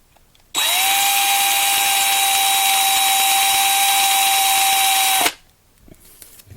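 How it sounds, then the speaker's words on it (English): A power drill whines steadily at high speed for about five seconds, drilling out a rivet on a 1/64 scale diecast car, starting and stopping abruptly, close up with no talking. "I got to drill out this rivet"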